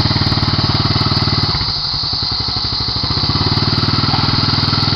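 A motorcycle engine runs close by on a road trip, a loud, steady low-pitched putter with a regular pulsing beat that dips briefly then resumes, with no talking over it.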